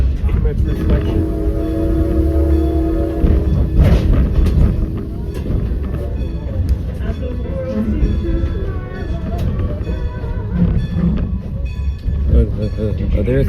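Diesel train on the Strasburg Railroad in Lancaster County rumbles past loud and close, a steady heavy roar with a distant whistle, while people talk over it.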